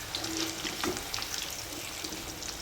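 Chickpeas for chana koliwada frying in hot oil, giving a soft, continuous bubbling sizzle with light clinks and stirring noises, close and moderately quiet.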